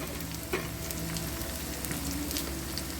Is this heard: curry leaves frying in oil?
yes